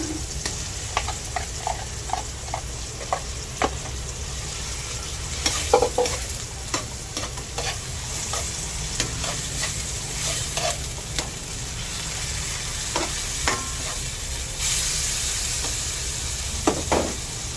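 Ground pork sizzles and fries in a pan for ginisang ampalaya, with steady crackling throughout and a utensil repeatedly scraping and stirring, some clacks louder and closer than others.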